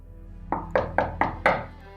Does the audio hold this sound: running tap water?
no